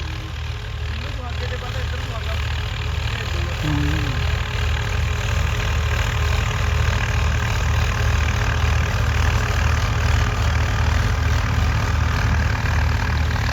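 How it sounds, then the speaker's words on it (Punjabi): A Swaraj 855 tractor engine runs steadily and continuously throughout, a deep low rumble with no pauses, close by and fairly loud. "ਇਹ ਵੀ ਸੁਣੀ ਟਰੈਕਟਰ ਦੀ ਆਵਾਜ਼ ਬਾਈ"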